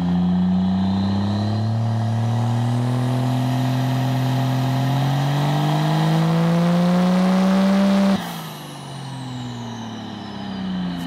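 A vehicle engine on a dyno roars at full throttle, its pitch climbing steadily for several seconds before cutting off abruptly and dropping to a lower, fading hum.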